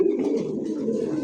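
Pigeon cooing up close, a continuous low throaty coo from a male American pigeon with a pink beak, steady and moderately loud with no talk over it.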